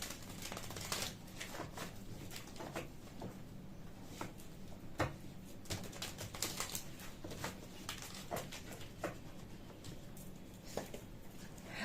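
Tarot cards being shuffled by hand, a quiet, steady run of soft papery riffles and flicks that continues for the whole stretch with no one talking.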